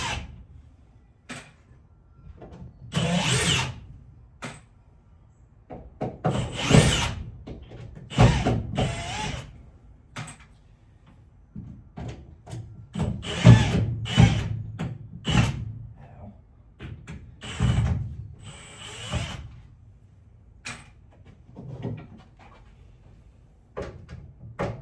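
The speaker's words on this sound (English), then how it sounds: "once I get these last couple screws out" A power drill backs the last screws out of a race trailer, with short intermittent whirring bursts and clanks separated by pauses, close by and fairly loud.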